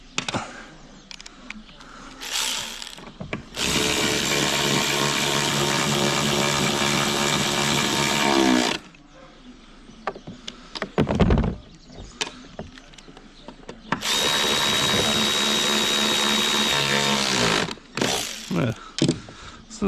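A power tool drives small 8mm bolts into a John Deere 3420 during a blower fan replacement. It makes two loud, sustained whirring bursts of several seconds each, with quieter clanks and handling noises between them.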